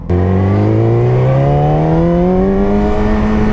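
A motorcycle engine revs loudly and close on a ride, its pitch climbing smoothly and steadily as it accelerates, with no talking.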